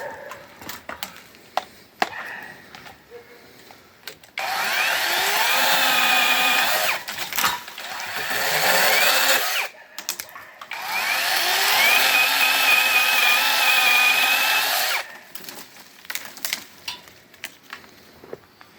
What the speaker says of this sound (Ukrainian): А от пилка призначена для будь-яких гілок.